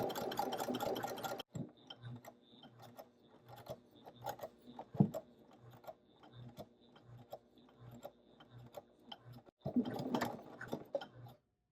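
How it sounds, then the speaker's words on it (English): A sewing machine topstitches the curved zipper fly on a pair of jeans, running in short rhythmic bursts with pauses between them and some louder stretches near the start and end, with no voices. "take it to your machine, whatever you're doing your top stitches with, and sew that curve"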